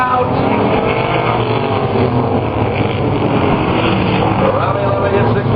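Race cars in a figure 8 feature at Flat Rock Speedway roar continuously at full throttle, engine drone filling the air, while an announcer calls the action over the track noise.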